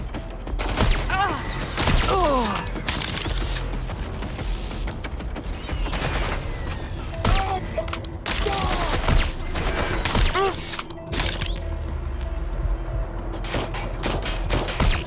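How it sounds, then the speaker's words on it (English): Repeated bursts of gunfire crack and pop through an urban scene in Watch Dogs Legion, with scattered shots and short volleys over steady ambient noise across the whole stretch. "I think someone's shooting."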